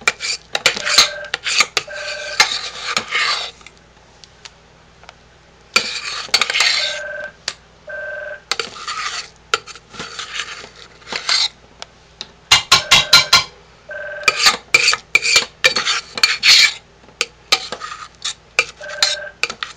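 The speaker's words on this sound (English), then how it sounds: "this is what our pot looks like while I'm scraping it out" A spoon or spatula scrapes out a soap-making pot in repeated rasping bursts of a few seconds each, separated by short pauses, close and fairly loud with no voices.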